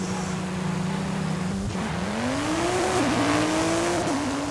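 A 2018 Porsche 911 GT2 RS launching in a Forza Horizon 5 drag race: loud continuous engine roar with tire squeal at the start, pitch climbing through gear shifts, no talking.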